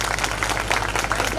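Loud applause for Jyoti Joseph at a Republic Day walkathon event in Bhopal, a steady, dense clatter of many hands clapping together over a low constant hum, filling the whole short moment.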